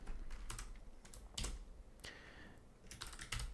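Typing on a computer keyboard heard up close in short bursts of quick, light key clicks separated by brief pauses, fairly quiet, with no one speaking.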